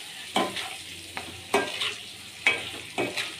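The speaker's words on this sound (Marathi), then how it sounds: "अंडे तळताना त्यांना सारखं हलवायचं आहे." Eggs fry in hot oil for an egg dum biryani while being stirred, with a steady sizzle broken by repeated scraping stirs at a roughly even rhythm, close and clear.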